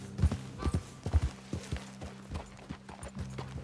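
A horse trotting in Red Dead Redemption 2, with a few close, distinct hoof clops in an uneven rhythm over quiet background ambience.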